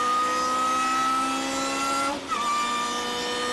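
Lotus race car engine at Spa pulling hard out of a corner, a loud steady high-pitched drone that dips briefly at a gear change, then carries on strong and close.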